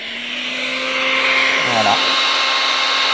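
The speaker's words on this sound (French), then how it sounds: "on va mettre en route notre désherbeur thermique" Parkside thermal weeder running steadily, its small internal fan pushing hot air in a loud continuous whir with a brief pitch dip midway; someone speaks briefly over it.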